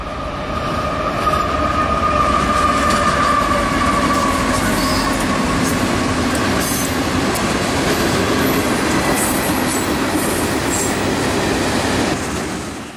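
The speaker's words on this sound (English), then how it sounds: "Q613 is a chemical train out of Waycross, Georgia from Mulberry, Florida in the Bone Valley Phosphate region." Q613, a chemical freight train running out of Waycross, Georgia, rolls by near a rail yard with a steady, loud rumble of wheels and cars that holds for the full length, faint squeals and clacks riding on top, and no voices.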